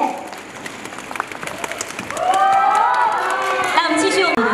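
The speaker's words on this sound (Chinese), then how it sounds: "再一次掌声送给预言好不好？" A large audience at a star-studded charity gala and awards ceremony bursts into loud, sustained applause with cheering and whoops. The noise swells midway and then holds steady.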